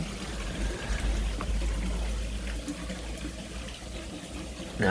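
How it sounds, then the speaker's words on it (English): Water trickling and pouring steadily in a garden water feature beside a DIY koi pond, a continuous soft splashing wash with a low rumble, close by and without talk. "I'll just show you my nice little water feature I've got now as well."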